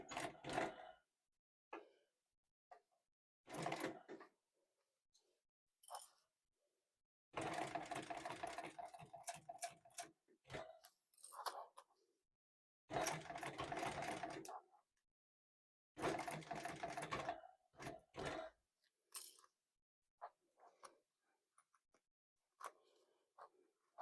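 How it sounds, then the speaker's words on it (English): A sewing machine stitches around a messenger bag in separate quick bursts of rapid mechanical chatter, with quiet gaps and small clicks between runs. "Let's sew all the way around."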